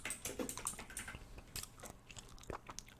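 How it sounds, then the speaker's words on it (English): Gum being chewed close to the mic in an ASMR setting, with wet, crackly mouth clicks and smacks repeating in an irregular rhythm, loud and alone with no talking. "Can you eat chewing gum? That's what I'm chewing right now."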